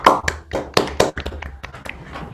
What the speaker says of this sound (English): Applause as well as virtual applause